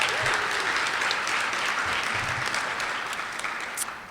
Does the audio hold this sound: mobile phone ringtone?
no